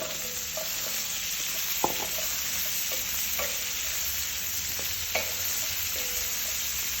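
Chopped onions sizzle and fry in rendered bacon fat for boeuf bourguignon, a steady close hiss broken by a few soft stirring knocks against the pan, with no talking.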